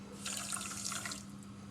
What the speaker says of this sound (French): Et je vais tout de suite mettre mon eau.